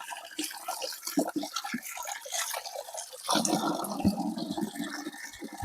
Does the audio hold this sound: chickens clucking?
no